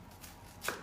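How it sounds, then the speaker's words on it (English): A knife chops food on a cutting board, one short close knock near the end of a brief, quiet moment. "Now we just chop it down."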